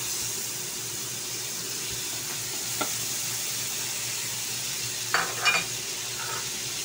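Butter melting and sizzling in a hot frying pan over low heat while cooking chicken buffalo wings, a steady soft hiss throughout with a few brief clatters of stirring near the end.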